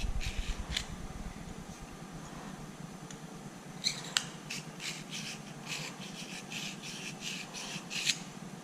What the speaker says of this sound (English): now I've got a 3-corner file here, and I can file out these burrs